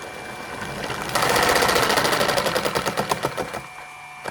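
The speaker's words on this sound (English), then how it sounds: "here's the spin up at full mains power" A 6/4-magnet three-phase motor spins up on full mains power, jumping into a loud dense mechanical whir with rapid rhythmic knocking that gradually slows and fades as the run-up eases off, close by and with no talking.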